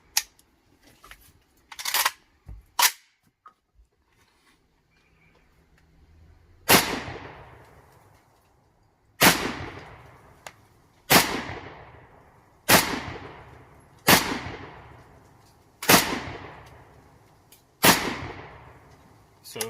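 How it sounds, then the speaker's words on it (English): A handgun is test-fired, a few quick shots and then a steady series of loud, sharp reports spaced about two seconds apart, each with a ringing decay, with nothing else heard. "I'm going to go ahead and put the rounds through it"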